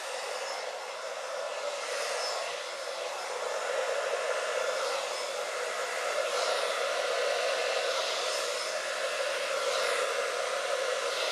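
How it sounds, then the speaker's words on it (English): A blow dryer running on its cool setting, used to dry alcohol ink on a large canvas, gives a steady, close airy whoosh for the whole stretch with only slight swells in strength. "I'm running it on a cool setting right now, the blow dryer."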